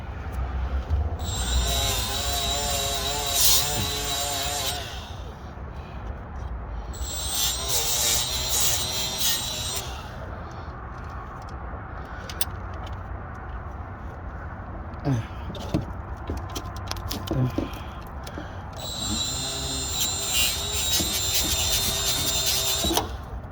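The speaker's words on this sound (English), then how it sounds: "M12 die grinder" An M12 die grinder cleans battery cable ends on a 1999–2006 GM truck. Three bursts of high, shrill spinning whine come through nearby, with a person talking between and over them.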